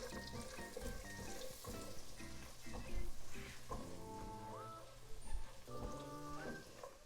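Cumin and fennel seeds lightly frying in a pan, a faint, busy crackle and patter like light rain, steady throughout with occasional louder pops.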